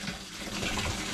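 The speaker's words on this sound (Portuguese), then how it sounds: "Este tubo de alimentação de água" Water from a supply pipe on an olive farm runs in a steady, broad rush, close by and continuous through the short stretch, with no voices.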